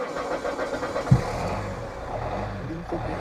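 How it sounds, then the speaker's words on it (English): A car engine cranks and catches with a JFEGWO 4000A jump starter, a brief thump then a steady running rumble with rising and falling engine tone, close by, with voices at moments. "I'll go into the car and jump start it."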